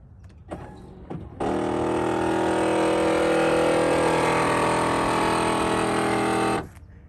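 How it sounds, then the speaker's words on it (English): The pop-up headlights of a 1999 Corvette C5 lower on a stripped gear, giving a loud, harsh grinding motor whine that runs steadily for about five seconds and then cuts off abruptly, preceded by a couple of brief clicks. "the terrible noise it makes when you lower the headlights with a stripped gear"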